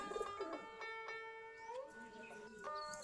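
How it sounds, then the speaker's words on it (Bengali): Giribaz pigeons in a loft coo in soft repeated rolling calls, several birds close by and fairly faint, with other bird sounds around them and no talk. "আমাদের প্রায় 40 থেকে 45 জোড়া কবুতর আছে, সম্পূর্ণ গিরিবাজ কবুতর"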